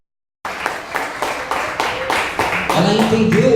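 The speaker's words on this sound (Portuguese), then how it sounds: "Então eu quero que as palmas sejam dadas a Jesus por essa vida." Clapping from a church congregation starts suddenly after a moment of silence, with clear rhythmic claps that grow louder and fuller, and a voice rising underneath toward the end.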